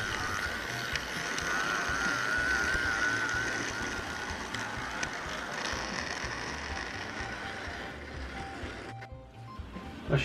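An OO scale kit-built Southern Railway steam locomotive model with a modest Anchorage D11 motor runs smoothly, giving a steady, continuous mechanical whirr and gear chatter that holds even throughout before dipping briefly near the end.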